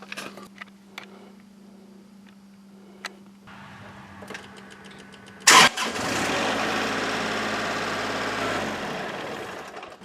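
A Kubota tractor fitted with a backhoe sits quiet under a few faint clicks and ticks, then its engine cranks with a sharp burst, fires and settles into a loud, steady idle rumble nearby.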